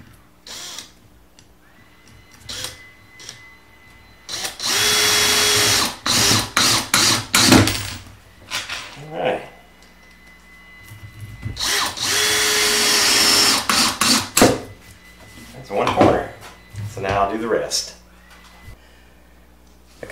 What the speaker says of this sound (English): We'll just shoot the screws right in.